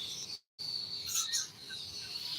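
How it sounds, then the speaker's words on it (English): High, steady chirping of baby birds in an Atlantic City sunroom, a continuous insect-like trill with brief bright peeps, heard alone at moderate level with one short dropout. "can you hear the birds? I got baby birds"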